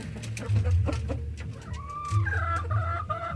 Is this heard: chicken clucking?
yes